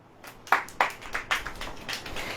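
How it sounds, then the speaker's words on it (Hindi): Scattered hand claps from a church congregation land unevenly over a couple of seconds, sharp and fairly close against a quiet hall. "ताली बजाओ।"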